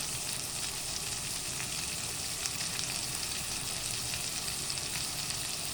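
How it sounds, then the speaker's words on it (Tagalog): Garlic and onion sauté in a hot pan for a Filipino breakfast of dried squid and ampalaya, giving a steady, dense sizzle that holds evenly throughout with no talk. "isusuti lang natin ang ating bawang"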